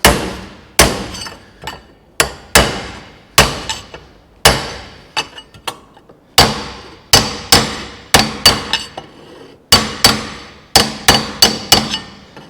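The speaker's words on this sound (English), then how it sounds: "And that one I've hit home against the vise." Hammer blows on a folded steel roof panel held against a vise during rust repair on a 1970 Holden HG ute, about twenty sharp, loud metallic strikes in uneven bursts with ringing decays.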